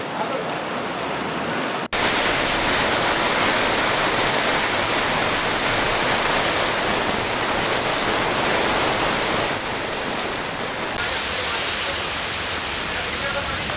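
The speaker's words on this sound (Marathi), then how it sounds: "पुणे शहरामध्ये सलग दुसऱ्या दिवशी अवकाळी पाऊस झालाय" Unseasonal rain pours down across Pune city, a dense, loud, steady hiss of heavy rainfall close by that continues with little change after a brief break at the start.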